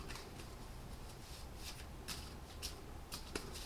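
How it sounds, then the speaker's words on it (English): Soft, papery riffling of playing cards being shuffled, with several quick flutters and light taps over faint background hiss. "So we're going to shuffle the cards"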